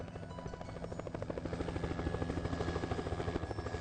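A helicopter flies over the flat, gold-mining country of Abitibi, its steady rotor chop and engine drone growing slightly louder throughout, heard alone from the cabin.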